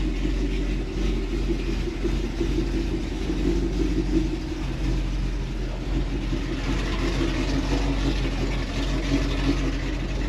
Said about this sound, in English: a nice, loud, Catless header drive